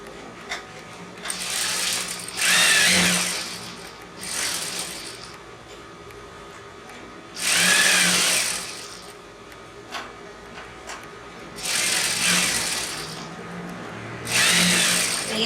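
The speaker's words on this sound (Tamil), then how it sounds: "இப்போ வந்து அடித்த தையல் மேலேயே இன்னொரு ஸ்டிச் நீங்கள் போட்டுக்கிறீங்க" A sewing machine runs a line of stitching over an existing seam on Patiala pants, in several loud, close bursts of rapid whirring, each lasting one to two seconds, with quiet pauses between them.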